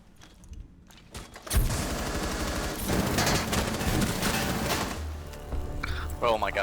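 Sustained rapid machine gun fire from the Tachanka mounted turret in Rainbow Six Siege, loud and dense for several seconds with shorter bursts and voices speaking over the shooting.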